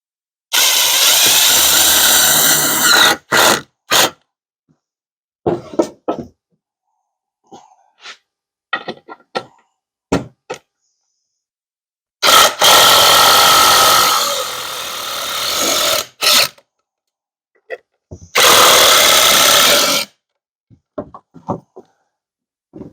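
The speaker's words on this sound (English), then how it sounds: "I'm going to use my Ryobi impact wrench to go ahead and set these screws in" A Ryobi impact wrench drives screws into a wooden table frame, loud bursts of rattling hammering of a few seconds each, separated by quieter handling clatter and pauses.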